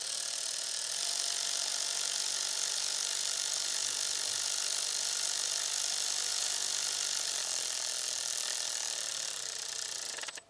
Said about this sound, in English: I'm gonna use my electric ratchet just slightly because we're gonna torque them